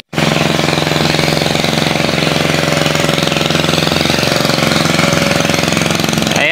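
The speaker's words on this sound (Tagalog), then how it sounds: "kung maririnig nyo yung ingay ng bao-bao or small hand tractor" A small hand tractor's engine runs steadily in a rice field during land preparation, a loud, close, rapid chugging rattle that starts abruptly and continues without pause.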